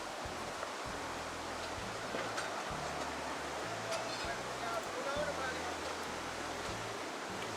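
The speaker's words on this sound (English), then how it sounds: "I know the sound of running water when I hear it" Steady broadband rush of running water from a river crossed along a city street, continuous and fairly even throughout, with a low tonal hum and murmur running underneath.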